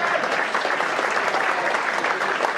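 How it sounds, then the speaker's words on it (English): Audience applause, a dense, loud, continuous clapping that fills the whole stretch without pause, with some crowd noise beneath. "Come on, give me a round of applause"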